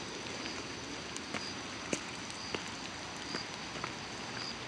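Rain falls steadily outdoors in an even wash of patter, with a few sharper drops landing now and then. Nobody talks.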